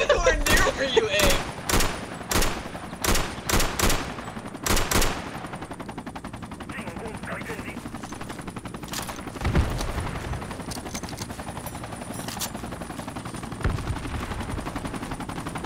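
Machine gun fire in the military shooter Project Reality, set in Vietnam: rapid loud bursts of automatic gunfire in the opening five seconds, then a quieter stretch of distant rumble and scattered shots.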